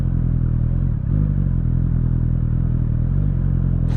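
A 2020 Suzuki GSX-S1000F motorcycle engine idles with a steady, low mechanical chug throughout, close by, with a brief dip in the middle.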